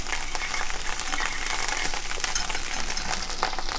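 A mixture for pan-seared wild-caught lingcod sizzles and pops in a hot pan as it is stirred: dense, continuous frying crackle with scattered sharp pops, close and fairly loud throughout, with no talk.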